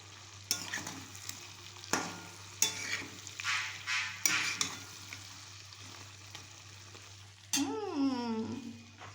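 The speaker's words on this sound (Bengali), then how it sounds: "এখন আমি এই যে আলুটা একটু ভাজাভাজি করছি।" Potatoes, onion and green chilli sizzle in hot oil while a utensil stirs them in repeated scraping bursts, followed by a louder hiss as something new hits the pan.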